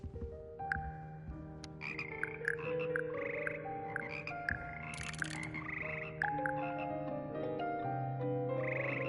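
Frogs croak in a steady chorus in Hogwarts Legacy, overlapping calls repeating over a backdrop of layered game music, fairly loud and continuous, with no talk.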